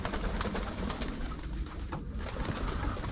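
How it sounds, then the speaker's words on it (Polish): Domestic pigeons coo softly in a loft, close by and steady against a busy, noisy background, with no talking. "Jedzą go moje gołąbki."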